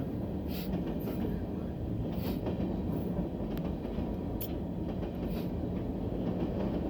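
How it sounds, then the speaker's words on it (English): A freight train of small cars rolling through the Struthers crossing, loud and close, with a steady rumble and rhythmic wheel clatter throughout and no voices. "Bye, train."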